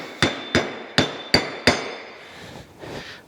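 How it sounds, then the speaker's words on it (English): A lead hammer bumps a rusty six-jaw Bison lathe chuck into line: five sharp, evenly spaced metallic blows, close and loud, each ringing briefly before a quieter scrape at the end. "Let me get a lead hammer to kind of bump it and line her up there."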